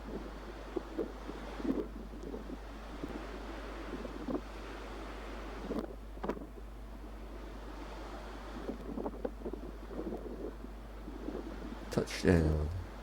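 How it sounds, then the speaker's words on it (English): Gusty Force 7 wind rumbles and buffets a microphone at St Catherine's Oratory, with low roaring bursts and scattered voices talking faintly underneath. "It is quite windy."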